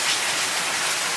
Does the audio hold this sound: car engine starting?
no